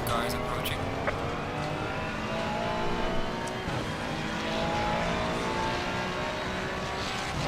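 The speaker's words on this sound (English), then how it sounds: "Faster cars approaching." Race cars in the Assetto Corsa Competizione racing game, at the Bathurst or Spa circuits, drone steadily as faster cars approach, their layered engine tones rising with the speech of commentators over the top.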